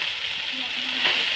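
Leftover cooked rice stir-fried in a hot pan, a steady close sizzle with soft scraping as it is stirred, continuous and moderately loud.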